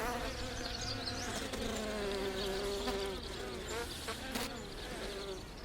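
Honey bees buzzing around a hive, a dense continuous drone of many wings with individual bees passing close and pitch shifting, steady and fairly loud with no talking.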